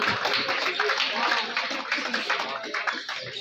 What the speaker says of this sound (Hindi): स्वागत जोरदार तालियां।